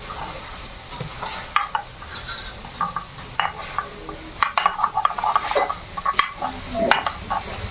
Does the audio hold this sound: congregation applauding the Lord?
no